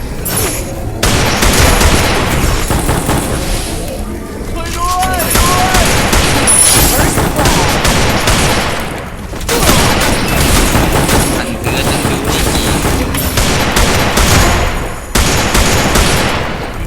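Gunfire fills a Free Fire match in dense, continuous bursts that are loud and barely pause over about seventeen seconds, with booming hits mixed in.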